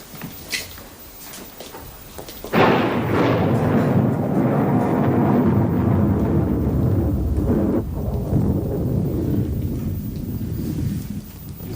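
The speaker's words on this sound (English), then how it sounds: "That storm's come out of nowhere." After a quiet opening with a few faint sounds, a sudden loud crack of thunder breaks in and rolls on as a deep, sustained rumble that slowly fades near the end.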